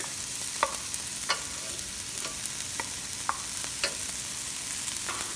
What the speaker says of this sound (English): We'll add our garlic.